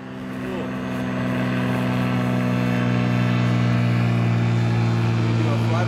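An aircraft trailing a Philippines flag makes a flyby, its engine drone swelling steadily into a loud, sustained roar that stays strong throughout.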